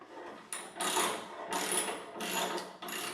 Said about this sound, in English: These tighten up on that side, and I'm going to finish up with this side